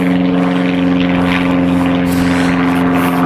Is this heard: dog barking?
no